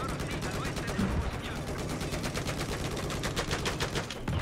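Rapid automatic gunfire in the video game Battlefield 4, a dense run of steady shots that stays constant throughout, with voices talking under the shooting.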